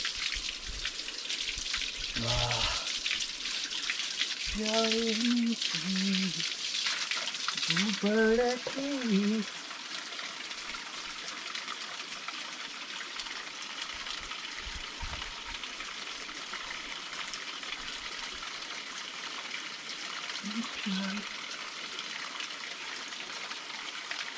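Water poured over a man's head to wet his hair before a traditional shampoo, a steady close hiss and splatter that is louder in the first few seconds, with a voice briefly speaking over it.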